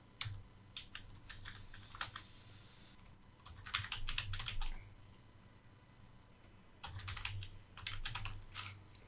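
Typing on a computer keyboard while entering end-credit names such as a production manager's title, with irregular bursts of clicky keystrokes in three clusters separated by pauses, close and fairly quiet.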